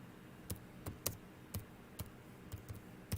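Typing on a computer keyboard: a short run of separate, crisp key clicks at an uneven pace, close and fairly quiet, with no talking.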